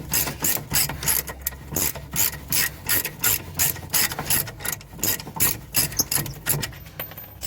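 Hand ratchet working on a front wheel hub bolt of a 2004 Saab 9-3, loud, close rhythmic clicking in quick bursts with short pauses between strokes, carrying on steadily and alone.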